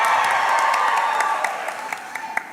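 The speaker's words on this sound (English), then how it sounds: "Cheering for America or the Cowboys there?" A studio audience claps and cheers in a sustained wash of applause that slowly thins out, leaving a few scattered claps at the end.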